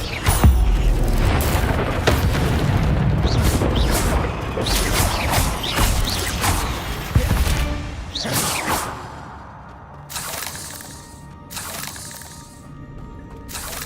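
Spell effects from the Hogwarts Legacy video game, a fire spell among them, burst out in a dense run of booming, crackling impacts and whooshes, loud and close, with mechanical clanks and a calmer stretch near the end.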